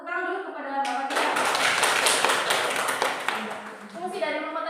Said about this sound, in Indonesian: Tepuk tangan dulu kepada Bapak kita.